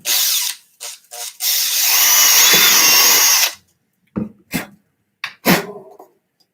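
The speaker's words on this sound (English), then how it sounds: "when you push the drill through, it can tend to get chewed up" A power drill whirs in a few short bursts, then a long sustained run biting through wood in a workshop, followed by scattered knocks and clunks.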